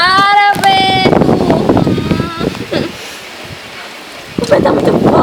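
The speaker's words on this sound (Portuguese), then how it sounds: "O vento tá muito forte." Strong outdoor wind buffets the microphone with a steady roar, under children's excited talking in Portuguese that breaks off briefly before resuming.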